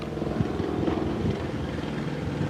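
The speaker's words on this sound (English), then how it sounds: "And there's the helicopter." A helicopter flies overhead, its steady low rotor drone and rumble filling the clip continuously at moderate loudness, with no talk.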